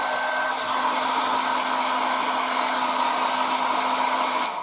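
A hair dryer blows steadily to dry Tamiya paint on a 1:35 Trumpeter E-50 Standardpanzer model tank, a loud continuous whoosh with a constant motor hum running unbroken throughout, no voices.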